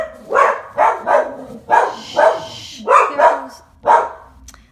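Several dogs bark indoors in a home craft room, about nine loud, sharp barks in uneven bursts, with a brief hushing voice in the background.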